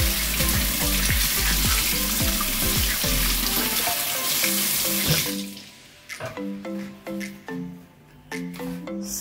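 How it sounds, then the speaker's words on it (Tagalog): Taro being washed under a running kitchen tap, a steady rush of water for several seconds, then broken splashes and drips as the tubers are rubbed and rinsed. "Tapos hugasan natin ang ating gabi."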